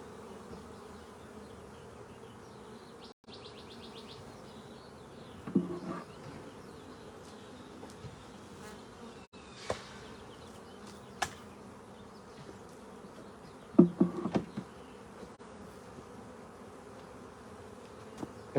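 Honey bees hum steadily at an open hive during a spring hive split, a soft continuous buzz with occasional louder close passes and faint knocks of equipment.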